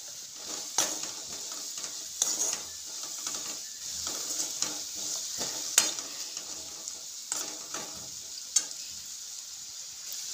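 Chili powder and tomato go into a frying pan for a village-style mutton side dish, giving a steady close sizzle with repeated scraping stir strokes and sharp clicks of a spoon against the pan, with no talking.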